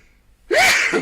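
Single sharp human sneeze, sudden and loud after a near-silent moment, with a short breathy tail, in a studio setting during a live synthesizer discussion.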